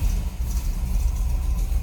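A 1960 Chevrolet El Camino with a 350 V8 running, its low throbbing exhaust pulsing steadily and close by, with broadband hiss above; no talking.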